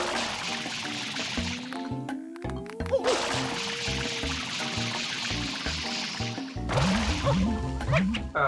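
In Super Mario Sunshine, FLUDD sprays water as a continuous hissing, sloshing gush over looping game music, cutting out briefly and then returning strongly near the end.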